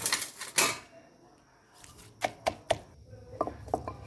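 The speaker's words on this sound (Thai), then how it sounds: "ตามด้วยเห็ดที่เตรียมไว้นะคะ ก็จะตำนะคะ" Prepared mushrooms are pounded in a mortar, giving sharp sharp knocks: a couple of heavy thuds first, then a pause and a series of irregular strikes, close and fairly clear.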